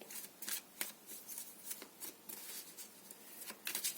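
Tarot cards being shuffled in a steady run of crisp, riffling bursts, close and fairly quiet, with no talking.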